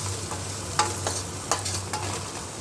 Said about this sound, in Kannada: ಸಿಮ್ಮಲ್ಲೇ ಇಟ್ಕೊಂಡು ಸ್ವಲ್ಪ ಈ ಥರ ಫ್ರೈ ಆಡಿಸ್ಕೊತಾ ಇರೋಣ.